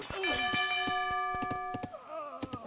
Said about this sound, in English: there's a town bell rung, but it's too late